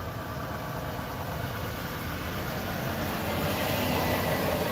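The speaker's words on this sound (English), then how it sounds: "Let his loud little truck go on by." A loud small truck engine rumbles steadily at close range, passing by and swelling slightly toward the end, with no voices over it.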